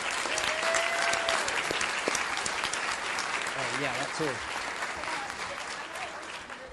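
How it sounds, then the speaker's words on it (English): A school board meeting audience claps for the district's school principals, dense sustained applause with a few voices calling out over it, tapering slightly toward the end. "let's give them all a round of applause"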